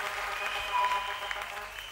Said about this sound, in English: Clap again, clap again. Clap again. Clap again.